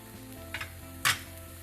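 A paratha cooking on a hot pan gives a soft continuous sizzle, broken by a short scrape or shuffle and then a sharper clatter near the end.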